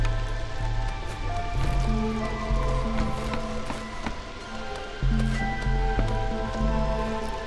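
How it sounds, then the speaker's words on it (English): Light drizzle in the video game Against the Storm, a steady patter of raindrops under sustained musical tones, even and moderately soft throughout. "we are still in drizzle season, right?"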